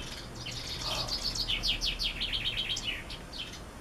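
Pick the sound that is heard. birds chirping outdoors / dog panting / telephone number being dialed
birds chirping outdoors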